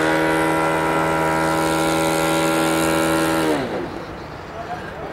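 A radio-controlled model airplane at a fun fly event passes overhead, its loud, steady, high engine whine dropping sharply in pitch as it goes by and then fading away.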